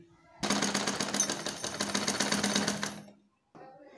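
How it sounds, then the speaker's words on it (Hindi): A sewing machine stitches a strip onto a kurti, a loud rapid mechanical rattle running for about two and a half seconds before stopping, followed by a short spoken phrase. "इस तरह से इसको ज्वाइन करके इस पर सिलाई लगा लेंगे"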